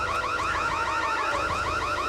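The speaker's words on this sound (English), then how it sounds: "She grabbed the fire alarm and activated it." Alarm siren wailing in rapid, repeating rising sweeps, steady and continuous at moderate volume with no voices.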